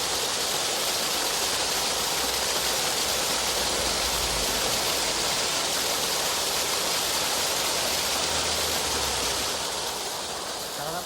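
Water runs loudly and steadily through a countryside stream, a dense, continuous rushing wash close by with no talk and no break.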